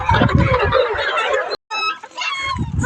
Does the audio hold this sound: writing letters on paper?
no